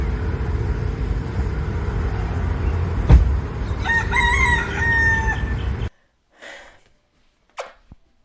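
A rooster crows clearly before sunrise on Maui over steady background noise, its call rising and holding, followed by silence and a couple of faint distant sounds.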